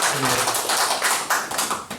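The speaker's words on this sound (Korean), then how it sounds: "양성 교수님께 박수 부탁드리겠습니다." Audience applause for a professor after a lecture on youth policy, a dense wash of many hands clapping close and loud for about two seconds, fading slightly at the end.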